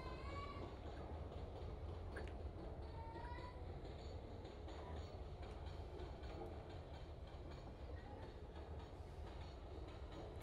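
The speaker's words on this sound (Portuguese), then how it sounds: "E vamos parando aqui o trem." A train slows to a stop in the Open Rails simulator on the Ferrovia do Aço, with a steady rumble of wheels and rolling stock and faint squeals, continuous and fairly quiet throughout.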